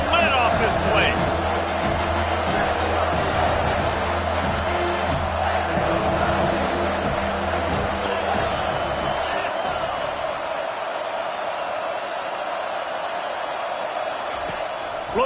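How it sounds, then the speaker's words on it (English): A roaring stadium crowd in the College Football 25 video game during a Baylor vs USC matchup, loud and sustained under a commentator's play-by-play, easing off toward the end. "this crowd is tearing the lid off this place"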